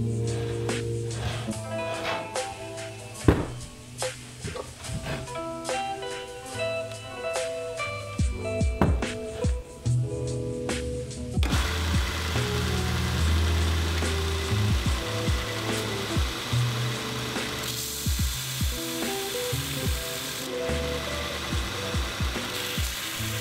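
A knife bevel is ground on a clamped grinding jig. Sharp clicks and knocks from setting up come first, then a steady, rough abrasive grinding hiss fills the second half.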